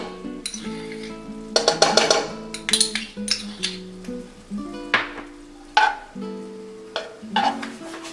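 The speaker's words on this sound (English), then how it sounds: "We're going to add our 1/4 cup of butter." Butter melts in a hot pan while making a cilantro sauce for salmon: a light sizzle under repeated stirring and utensil clatter against the pan, with a soft tonal backdrop throughout.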